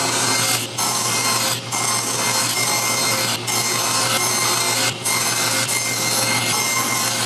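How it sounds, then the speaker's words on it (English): A bandsaw fitted with a circle jig cuts a groove in plywood, giving a steady, dense rasping whir that is briefly interrupted by several short dips in the cut. "I'll run this through just cutting that one groove right there"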